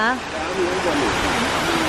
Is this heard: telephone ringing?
no